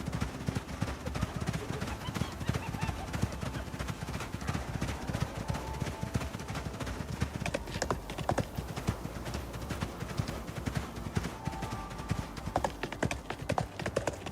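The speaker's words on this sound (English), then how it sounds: "like the horse riding sounds are pretty good" Horse hooves clip-clop in a quick, steady rhythm during riding in the survival video game ICARUS, loud and continuous throughout with occasional sharper clatter.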